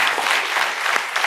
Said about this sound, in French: On va applaudir ce garçon.